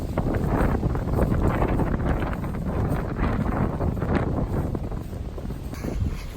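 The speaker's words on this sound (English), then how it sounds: "It's pretty windy up here." Strong wind buffets the microphone on an exposed Appalachian Trail mountain section, a loud continuous roaring rumble with gusty swells throughout and no talking.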